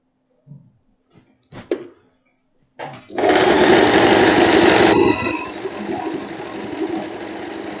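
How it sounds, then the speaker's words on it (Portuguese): Sewing machine closing the side seam of a long boho dress: a few handling clicks and bumps, then the motor kicks in with a loud, fast, steady stitching whir that eases to a lighter run after a couple of seconds. "Agora eu venho costurando e fechando já uma lateral."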